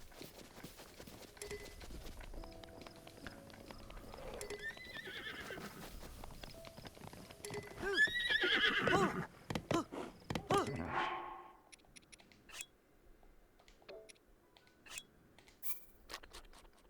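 A horse neighs and whinnies loudly up close, alongside clip-clopping hooves, followed by quieter scattered clicks and knocks.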